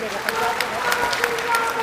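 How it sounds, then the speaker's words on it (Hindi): Applause from a large crowd at a political rally in Lucknow, a steady, somewhat distant clapping wash with a few sharper individual claps standing out, plus a murmur of voices underneath. "इनके लिए जोरदार तालियां बजाइए"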